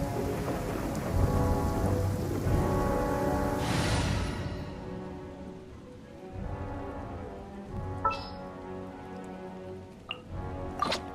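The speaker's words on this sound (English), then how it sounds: "Thunder's so loud." Heavy rain pours steadily during a thunderstorm in the video game Genshin Impact, with a loud rolling thunder surge near the start that fades, followed by scattered drips and sharper cracks later.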